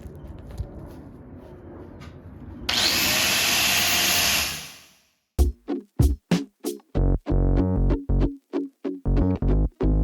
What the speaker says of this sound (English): I'm just gonna grind it a little bit more with the flap disc